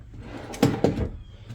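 Drawers in a 2024 Entegra Odyssey SE 27N motorhome slide and shut with two quick, close wooden knocks in a row, followed by quiet.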